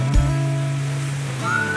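Nunobiki Waterfalls in Japan, a long stream of water pouring from high above, gives a steady broadband rush that fills the scene, with a brief low thump near the start and some tonal hum layered underneath.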